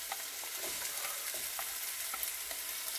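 Onions sauté with garlic and green chilies in a tablespoon of oil in a pan, a faint steady sizzle with soft, irregular stirring scrapes, heard alone.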